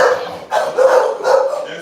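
An American bully dog barks close and loud, two or three sharp barks with brief pauses between them.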